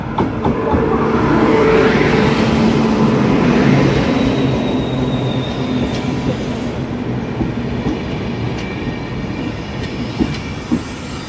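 A train rumbles into a station close and loud, wheels clattering and squealing on the rails as it slows, with a steady heavy roar throughout.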